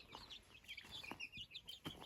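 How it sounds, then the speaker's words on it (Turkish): Faint, high chirps and peeps from small birds scattered through the clip, with soft clucking underneath, no voices. "civcivlerimizi dışarı çıkardık"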